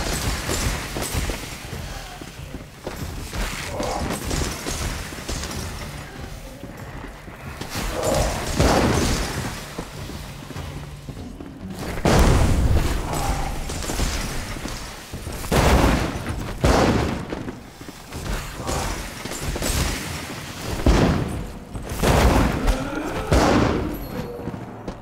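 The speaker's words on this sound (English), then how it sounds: "I dropped a bomb on her" Bombs explode one after another in an Enshrouded fight, loud booming thuds recurring every few seconds over a dense, rumbling background of combat noise.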